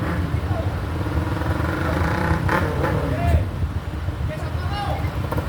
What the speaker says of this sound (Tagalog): Ay, sumingit pa ng motor.